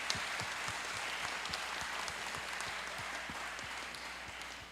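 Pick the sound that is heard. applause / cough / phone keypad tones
applause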